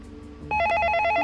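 A telephone rings in the Interference: Dead Air video game, a sudden, loud electronic trill of rapid repeating tones that cuts in after a quiet moment and continues steadily.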